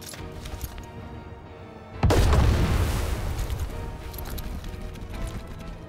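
One heavy artillery blast booms in the World War 2 strategy game Headquarters, a sudden loud detonation over faint background rumble, followed by a long, rolling decay that fades over several seconds.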